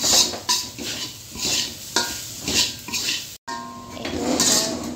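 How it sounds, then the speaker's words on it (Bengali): Chicken roll filling frying in a pan with soy sauce, stirred with a utensil: repeated scraping strokes and clinks against the pan over a soft sizzle, close up and without talk. "দিয়ে এটাকে একটু ভাজা ভাজা করে নিচ্ছে।"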